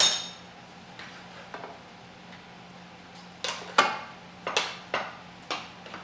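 Ladle clinking against a baking dish while spreading béchamel over a lasagna Bolognese, with a few soft taps and then a quick run of brighter metallic clinks near the end over a quiet room hum.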